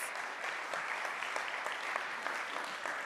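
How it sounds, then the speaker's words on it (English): Conference audience at a science week strategic dialogue gives a steady, even round of applause, a dense patter of many hands heard from a distance and fairly soft, with no voices. "A massive, massive round of applause"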